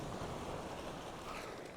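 Waves wash against a rocky shore below Dunstanburgh Castle on the Northumberland coast as a broad, steady surf roar with wind, faint and distant, with no voices.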